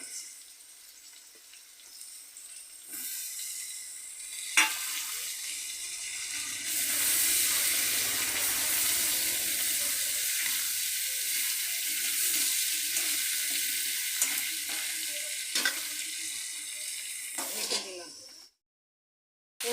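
Sliced ridge gourd sizzles loudly in hot oil, the crackle swelling and holding steady, with a few utensil clinks before it stops.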